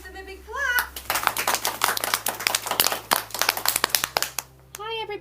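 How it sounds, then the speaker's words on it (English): Children at a school celebration assembly clap in an uneven burst of separate hand claps with a low steady hum beneath, and young voices are heard before and after the clapping. "Shall we give them a big clap?"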